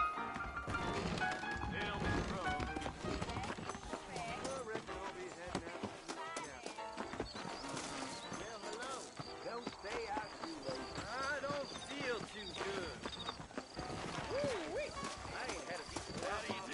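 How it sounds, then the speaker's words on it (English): Saddled horses trot along in the Red Dead Redemption video game, their hooves clip-clopping steadily under ongoing conversation and background music, with the odd whinny. "I got the horses saddled up and ready out front"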